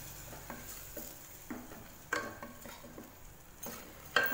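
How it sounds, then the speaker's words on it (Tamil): Ground tomatoes are stirred and sautéed into a green peas masala gravy in a pan, with soft, quiet scrapes and clinks of the spoon in an irregular rhythm over a faint sizzle. "சேர்த்து இதை நல்லா மிக்ஸ் பண்ணி வதக்கி விட்டுக்கலாம் ஃப்ரெண்ட்ஸ்"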